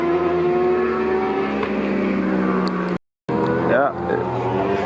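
Kawasaki Ninja ZX-4R four-cylinder motorbikes race through a final lap at an amateur motorbike fest, high-pitched engines whining and shifting pitch as they pass, with a brief cut and crowd voices over the roar.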